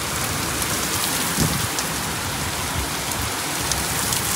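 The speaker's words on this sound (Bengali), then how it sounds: "এখন একদম পুরো ঝমঝমিয়ে বৃষ্টি হচ্ছে" Heavy rain pours down in a steady, dense roar, loud and close throughout with no voices, like a downpour drumming on surfaces nearby.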